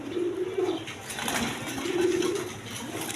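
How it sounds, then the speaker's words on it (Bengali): A pair of large Rajgolla pigeons of the gola type coo in two drawn-out low calls, with wing flaps and rustling in between, close by. "এক পেয়ার রাজগোল্লা কবুতর আছে গররা টাইপের রাজগোল্লা কবুতর"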